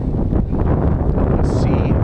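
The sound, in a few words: wind blowing into microphone on a boat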